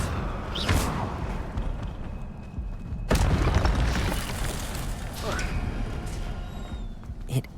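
A fiery Incendio spell bursts in Hogwarts Legacy, a heavy boom around the middle followed by lingering rumble and crackle, with game sounds and effects layered throughout.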